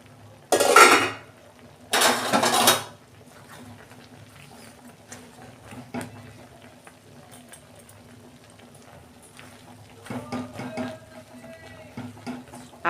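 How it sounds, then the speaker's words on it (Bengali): A metal lid comes off a cooking pot of taro leaves with chickpeas and coconut in a home kitchen, giving two short, bright clattering scrapes near the start, then faint clinks and stirring sounds later. "এই যে বন্ধুরা আমি ঢাকনা খুলছি।"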